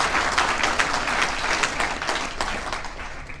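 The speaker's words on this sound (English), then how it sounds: "A round of applause for the board and Squash Ontario." An audience applauds at the 2024 Ontario Squash Hall of Fame induction ceremony, a sustained wash of many hands clapping in a hall, steady and fairly loud throughout.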